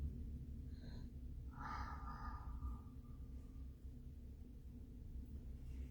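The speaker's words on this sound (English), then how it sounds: "now take a moment to exhale" A person exhales slowly during a breathing exercise, one soft airy breath rising briefly then fading, faint and close over a low steady room rumble.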